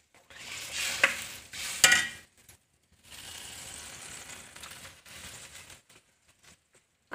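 Taro root (arbi) fries in a pan while being stirred, giving bursts of scraping, clattering utensil noise over crackling sizzle, with brief pauses between strokes and no speech.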